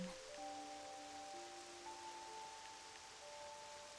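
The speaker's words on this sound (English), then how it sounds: "Rain." Rain in the video game Octopath Traveler II, a soft, even hiss of falling rain under sustained musical tones, faint and continuous throughout.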